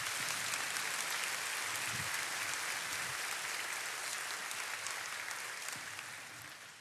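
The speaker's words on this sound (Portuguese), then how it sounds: "Você pode aplaudir ao Senhor," A church congregation applauding during a sermon, a sustained dense roar of clapping that stays even and fairly distant before tapering slightly at the end.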